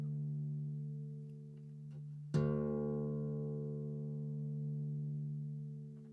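A guitar's thick low string, tuned down a whole tone to D, is plucked once and rings out clearly with a sustained, slowly fading tone, alone and close, after a quieter lingering note.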